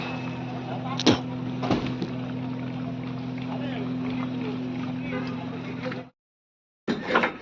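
A boat at Havelock in the Andaman Islands, with cargo being loaded, gives a steady, fairly loud engine drone and a couple of sharp knocks. The sound cuts out briefly near the end, then resumes.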